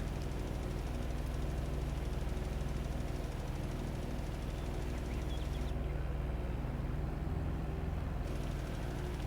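A small Gator utility vehicle engine in Farming Simulator 22 drones steadily at a low idle-like hum, constant and unchanging throughout, with no voices.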